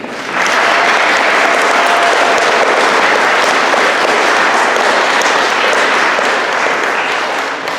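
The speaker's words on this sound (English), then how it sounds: "give a special round of applause for my 8th graders" Loud, dense applause from a school concert audience honoring eighth-grade band students, holding strong and even for several seconds and fading slightly at the end.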